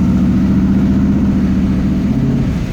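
A 1937 Ford Coupe engine pulls hard with a deep, steady hum during a short test drive. The pitch dips briefly near the end as the gear shifts from first to second, loud and close.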